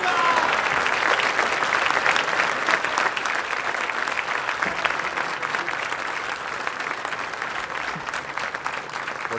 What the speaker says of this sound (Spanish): Agradecemos y despedimos con este fuerte aplauso al señor presidente de la Nación, doctor Javier Milei.